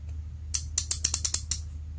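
A homemade printer mechanism steps along in a quick run of about eight sharp mechanical clicks and ratchet-like ticks, close and distinct over a low background hum.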